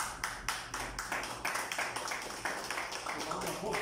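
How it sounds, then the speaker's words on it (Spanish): Applause at the swearing-in of a municipal emergency committee in Taulabe: a small group claps in quick, steady, evenly spaced beats at moderate volume, with no talking over it. "Fuerte aplauso."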